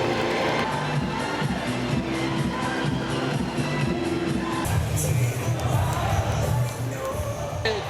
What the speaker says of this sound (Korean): 기호 3번 김동연 큰 박수 부탁드립니다.